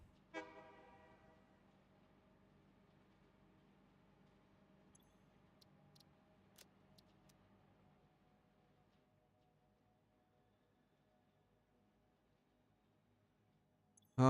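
A train in the game Satisfactory sounds a horn blast that fades into a soft mechanical hum with a few faint clicks. Near silence follows, then a sharp sound at the very end.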